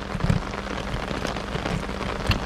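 Steady rain patters on the surfaces around a Casita travel trailer, a dense close hiss of drops with a few heavier splats and no voices.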